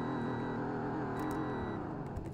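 A 2021 Toyota Sienna XSE hybrid minivan in the Roblox game Greenville revs its engine, a steady loud droning hum with a rising tone, heard alone.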